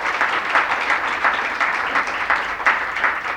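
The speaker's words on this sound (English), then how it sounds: "I think the panel, the esteemed panel, deserves a round of applause" Sustained audience applause for a panel discussion on Pakistan's economic reform agenda, a dense, steady wash of many hands clapping that swells slightly in places and runs alone for the whole stretch.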